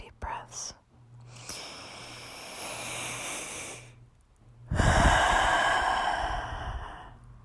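Slow, deep breaths drawn close to the microphone: a soft airy inhale, then a longer, louder exhale rushing out after a brief pause, with no talking.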